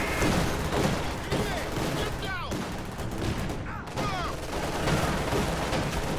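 Grenade and mortar fire in a strategy video game, a busy stretch of dense overlapping blasts and gunfire-like bursts, with whistling descending tones near the middle and a continuous loud wash of battle.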